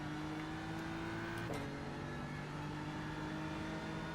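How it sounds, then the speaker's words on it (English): A race car engine revs in the iRacing simulator during a Nurburgring endurance race, a quiet steady drone with a brief pitch shift as a gear changes midway, faint and without talk. "This weird sounding engine, I can never tell what it's doing."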